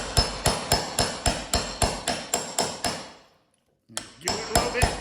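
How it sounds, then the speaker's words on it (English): Hammer blows land steadily on an old-school impact driver set against a stubborn bolt, about a dozen sharp metallic strikes in quick rhythm, then a brief silence before a few more hits resume. "you're gonna be twisting hard to the left, and then you're gonna be hitting this with the hammer."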